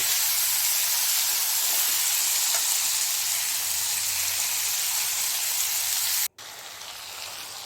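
Eggs boiling in a pot, with a loud, continuous, close hiss of steam and bubbling that runs without a break except for one brief cut near the end.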